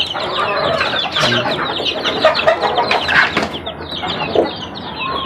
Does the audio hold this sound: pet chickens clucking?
yes